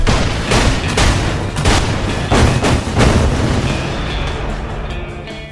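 Battlefield: Bad Company gameplay with buildings being destroyed: a dense barrage of loud, booming explosions and crackling blasts rolls on without pause, slowly fading toward the end.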